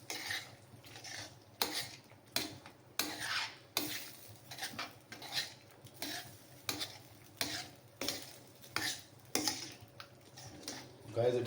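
A spoon works through paneer butter masala in a pan with dried fenugreek leaves, giving repeated rhythmic scrapes and clinks against the metal over a low simmering sizzle, close up and steady throughout.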